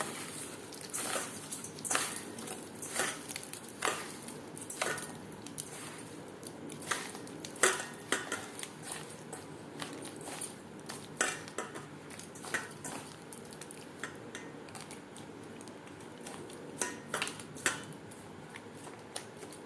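Ripe bananas mashed with sugar and a pinch of salt for malpua batter, a utensil clicking and scraping against the bowl in a steady run of close, sharp taps.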